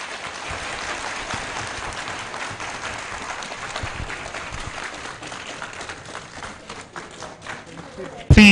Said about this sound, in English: Please, you can keep the applause going.